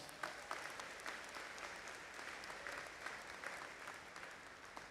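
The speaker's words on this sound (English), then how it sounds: "Let's give them another round of applause." Audience applause at a university convocation, a sustained, even patter of many hands clapping, heard from a distance and fairly quiet, with no talking over it.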